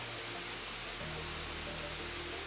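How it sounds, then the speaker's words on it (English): Steady, full-bodied rush of a waterfall pouring in a remote tropical island forest, a constant close roar with no voices and no pauses. "Just when you think you've seen the best waterfall, another one comes along that's even more amazing"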